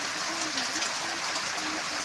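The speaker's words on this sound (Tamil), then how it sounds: "இங்க பாருங்க எப்படி மழை பெஞ்சு" Sudden heavy rain pouring steadily on a village street, a constant even hiss of water at moderate distance with no breaks.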